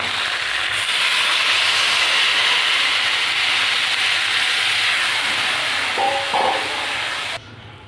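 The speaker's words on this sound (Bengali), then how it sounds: "মশলাটা একটু কষিয়ে নিয়েছি এবার জল দিয়ে দেবো" Water poured into a pan of spice paste frying for a Bengali fish curry sends up a loud, steady sizzling hiss that continues for several seconds before dropping off abruptly near the end.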